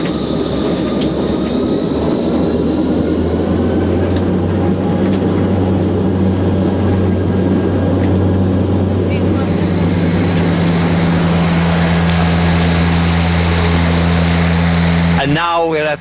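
A propeller aircraft engine drones steadily in flight, a loud continuous low hum with layered tones that shift slightly near the end, with a voice speaking over it.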